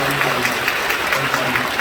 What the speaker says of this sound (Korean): 환영하면서 우리 박수해 주시고 환영합니다